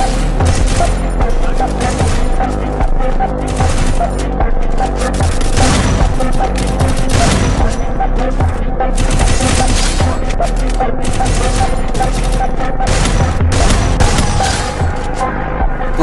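Dense, continuous gunfire from the mobile shooter Free Fire, landing headshots, with rapid bursts and booming shots packed together at high, steady loudness for the whole stretch and no talk over them.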